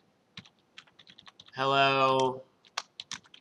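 Typing on a computer keyboard while editing in Vim: sparse, crisp key clicks close up, with a brief spoken word in the middle of the tapping.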